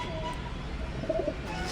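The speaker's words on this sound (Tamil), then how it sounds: "இங்கே ஒரு புறா இருக்குது" Pigeons at a home loft give soft, low cooing under a steady noisy background, faint and close, with a brief murmur of calls near the middle.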